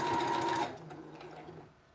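A sewing machine alters a red dress, running with a loud, steady whir for about half a second before cutting off and leaving a faint, fading hum.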